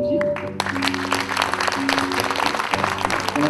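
Concert audience applauding a musician, sustained clapping rising sharply after a short musical tail and continuing steadily under lingering tonal sounds, fairly loud and full.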